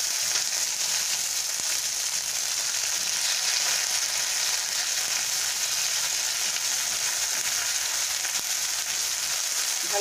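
Ginger and green chili paste frying in a hot pan, a steady, loud, continuous sizzle with a bright hiss that holds evenly throughout with no talking.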